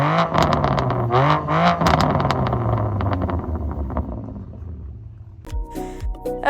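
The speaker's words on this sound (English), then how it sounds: "I'll put some sound clips of it now of what it sounded like with the exhaust" A BMW M2 Competition exhaust roars loudly up close, the engine note sweeping up and down through repeated revs before a burst of clattering rumble at the end. No voices.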